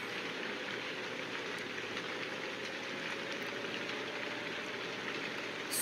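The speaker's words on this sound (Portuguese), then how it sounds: "Chovendo que dá medo, hein?" Heavy rain drums steadily on a bus while it travels, a dense, constant hiss over a low road rumble, with no talk.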